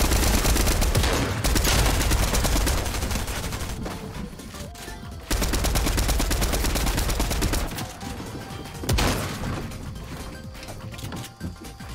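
Rapid bursts of gunfire from the video game Fortnite ring out loud and dense, mixed with crashing game effects that sweep through the whole stretch with only brief dips.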